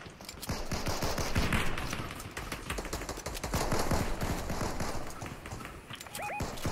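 Rapid gunfire in a battle royale video game crackles through the scene, dense bursts of shots repeating close by in a busy, continuous mix.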